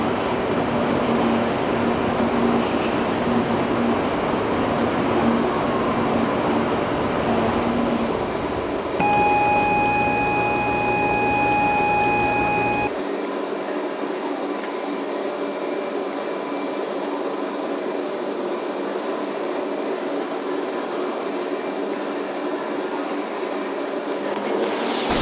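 A train rumbles steadily through a New York City subway station in the Trainz railway simulator, with a southbound express service. A loud, continuous roar runs throughout, and a brief sustained tone rises over it for a few seconds partway through.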